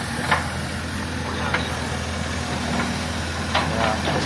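A tractor engine idles steadily on rural land in Jamaica being cleared for a house, a low continuous rumble with slight knocking, while people talk nearby.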